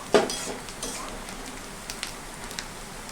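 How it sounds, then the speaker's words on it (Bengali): Bay leaf, two dry red chillies and fennel seeds dropped into hot oil for tempering, opening with a sharp burst of sizzle and a few utensil clicks, then settling into a quieter steady crackle. "ফোড়নের জন্য দিয়ে দিচ্ছি আমি তেজপাতা, দুটো শুকনো লঙ্কা ও হাফ টিস্পুন মতো মৌরি"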